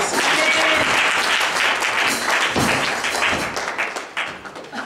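A church congregation claps together in sustained, dense applause that fills the room, loud and steady before thinning slightly toward the end, with faint voices mixed in.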